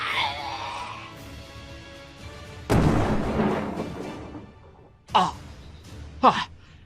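Explosion effect in a Filipino aswang horror audio drama: a sudden loud rumbling burst that rolls and decays over a couple of seconds, followed by two sharp gasping vocal bursts.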